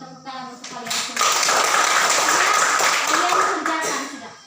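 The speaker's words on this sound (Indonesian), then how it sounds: "tepuk tangan untuk kalian semua" A class of students clapping their hands together in a loud, dense burst lasting a few seconds, with voices mixed into the applause.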